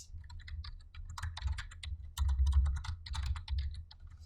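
Rapid typing on a computer keyboard while entering CAD title block attribute data, with dense clusters of clicking keystrokes and a few louder bursts, close and alone without speech.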